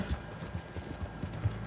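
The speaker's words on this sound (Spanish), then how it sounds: "Va a reventar el caballo, pero bueno." A horse in Red Dead Redemption 2 races along, its galloping hooves landing in quick, close thumps over a low rumbling background, without speech.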